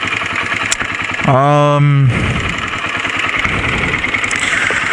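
A KTM XCW dirt bike engine runs steadily nearby, with a short rising rev burst in the middle, loud and continuous with no talking.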